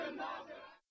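Angry crowd at an anti-Israeli protest in Egypt roaring and shouting together, a dense, loud mass of voices that holds steady, then cuts off abruptly after under a second.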